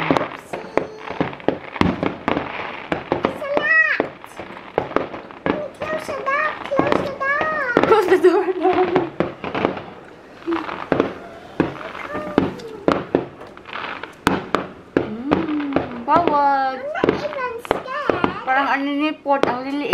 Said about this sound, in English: They have a lot of fireworks there.